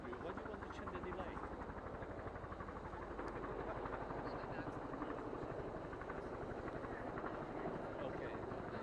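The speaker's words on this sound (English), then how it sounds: "Obviously the press helos first." Press helicopters fly overhead near a golf course in Scotland, a steady rhythmic rotor chop droning continuously at moderate distance, with voices faintly present.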